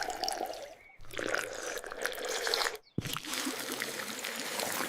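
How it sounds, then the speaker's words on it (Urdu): Water poured and splashing during mouth rinsing in wudu ablution, a continuous liquid wash broken by two brief pauses, fairly close and steady, with no voices. "3 بار منہ میں پانی ڈال کر کلی کریں۔"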